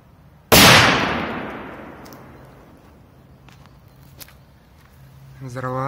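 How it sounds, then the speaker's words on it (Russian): A K-02 firecracker bursts outdoors with one sharp, loud bang that decays slowly into quiet background, and a voice is heard briefly at the very end. "Взорвем петарду"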